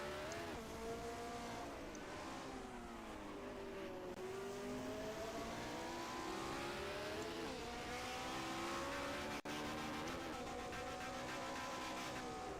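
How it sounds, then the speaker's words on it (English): A 1970-era Formula 1 race car in an F1 video game at Great Britain, its engine running with a fault, gives a continuous, loud, wavering engine drone with shifting pitch, alone without talk. "This guy definitely has an engine issue."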